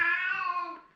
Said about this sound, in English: It's a little bit of interesting cat meow